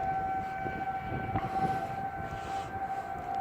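A civil defense outdoor warning siren sounds during a monthly test in Austin, a steady sustained tone carrying across the open air from some distance, with low rumbling background noise and no voices.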